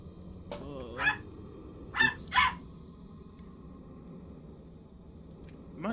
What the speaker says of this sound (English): I thought you were my dog barking